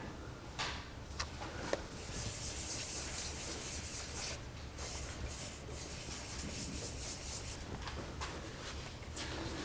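Wooden lathe-turned necklace pendant hand-sanded along the grain with 220-grit paper, a steady broadband rubbing and scratching that runs continuously at close range, with no voices.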